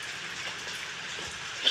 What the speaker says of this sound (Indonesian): Di teras rumahku hujan.